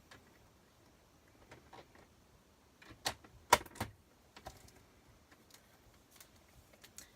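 Scissors snip through a gusseted bag, trimming it to about 4.5 inches: a few crisp, close cuts clustered together, with fainter clicks and rustles of the plastic before and after.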